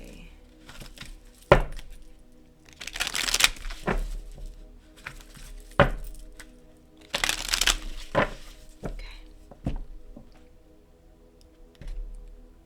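A tarot or oracle card deck being shuffled by hand, with repeated riffling bursts and sharp taps of cards against a surface, fairly close and without talk.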